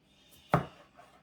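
A single sharp knife chop on a cutting board while preparing ingredients for Beijing beef at home, close and distinct against a quiet kitchen background.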